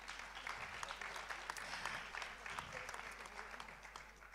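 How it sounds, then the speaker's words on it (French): An audience at a national convention's closing plenary session applauds a philosopher taking the stage, a sustained, even wash of many hands clapping in a large hall, heard from a distance and fairly faint. "vous pouvez applaudir."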